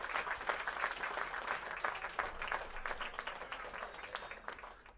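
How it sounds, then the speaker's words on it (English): Applause sound effect played during a live stream: a continuous, even crowd clapping that fills about five seconds at moderate level, then fades slightly at the end. "Perhaps followed by some applause."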